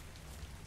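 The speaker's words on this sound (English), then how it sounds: "Oh, acid rain." Steady rain hisses down in the video game Ark: Survival of the Fittest during an acid rain storm, a constant dense patter with a low rumble beneath, no talking.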